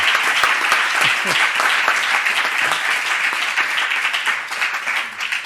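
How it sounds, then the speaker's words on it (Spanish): Sustained audience applause at the close of a lecture on the rural world, a dense, even wash of many hands clapping that stays steady and loud throughout with no voices standing out. "vamos a dar un aplauso que creo que se merece"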